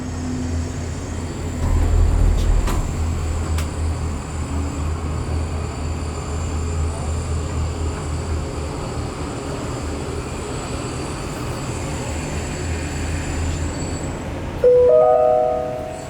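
A Disney Skyliner gondola cabin glides over Disney's Caribbean Beach Resort with a steady low mechanical hum and wind rumble, a brief louder thud near the start and rising tonal whine as it nears the station at the end.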